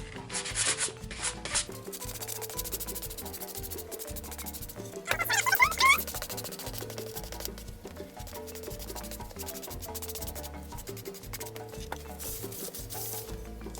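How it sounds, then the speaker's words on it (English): A sanding block rubs back and forth along the wooden edge of a bread board in a steady, close rhythm, with a few louder strokes. "I just take a sanding block"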